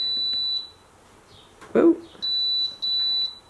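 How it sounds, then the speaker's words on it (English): An air fryer oven's control panel gives sharp, high electronic beeps in several sustained bursts, loud and close, with a brief spoken exclamation between them. "Oh man, that beeping is, that's like the biggest drawback at this point."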